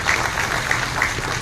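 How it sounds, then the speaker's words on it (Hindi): An audience at a university event in Bhopal applauds, steady dense clapping filling the space with no pauses, fairly loud and even throughout. "ताली बजा"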